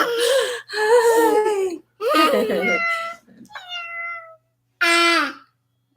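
A young child imitates a cat, voicing several drawn-out, whiny meows in short separate bursts with brief pauses between them, close and fairly loud.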